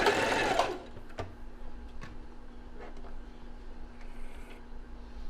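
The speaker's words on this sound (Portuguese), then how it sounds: "não tem problema se ela ficar saindo o ponto um pouquinho do lado de fora, que eu vou costurar bem na beirada mesmo" A domestic sewing machine runs a short, loud burst of stitching through fabric for a panty garment, then stops, leaving a steady hum and a few quiet clicks and taps.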